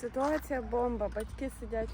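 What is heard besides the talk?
No everyday noises stand out.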